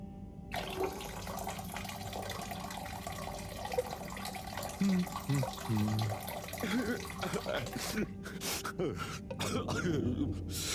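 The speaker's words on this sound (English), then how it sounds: "Sounds like the shower is playing up." A faulty shower running in the video game Harold Halibut, a steady hiss of spraying water throughout with some uneven splashing and knocks, and a voice speaking over it.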